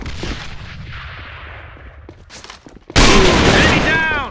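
A grenade explodes in the shooter game AVA, a sudden loud broadband blast near the end after a stretch of gunfire and background noise, with the blast ringing out and decaying while players talk over team chat.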